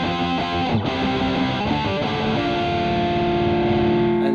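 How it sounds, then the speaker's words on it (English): Distorted electric guitar played as a steady chugging rhythm part, sustained chords ringing loud and continuous with no voices. "distortion rhythm he did"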